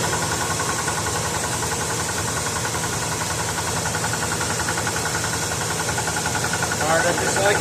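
A Ford engine idles steadily just after starting, a continuous mid-pitched running drone with a faint knocking rhythm, close and fairly loud throughout, with a brief extra rattle near the end.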